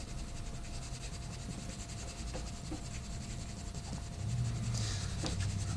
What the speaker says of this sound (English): I'm going to go erase all the lines that I had from before underneath